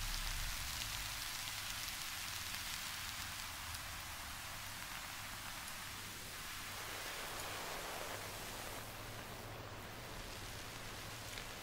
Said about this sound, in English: That's where your wind noise is coming from.